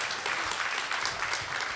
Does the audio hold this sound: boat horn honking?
no